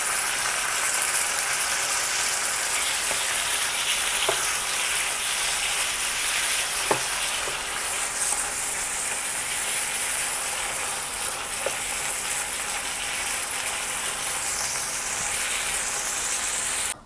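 Mussels stir-frying in a wok with red curry paste and long beans, a loud continuous sizzle and hiss with occasional faint clinks of a utensil, heard alone without talk.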